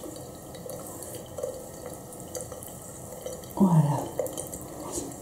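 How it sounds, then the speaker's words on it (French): A bathroom sink tap runs water for rinsing the face, a steady close splashing trickle with scattered drips, a louder splash partway through, and a brief spoken word. "Et quand je serai sortie de la douche, je me rincerai le visage."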